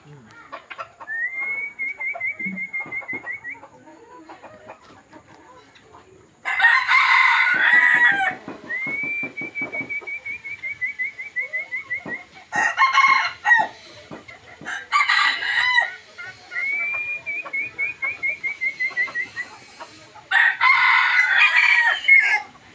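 A rooster crows loudly several times in bursts, with whistle-like tones in between and some background sounds, no talking over the calls.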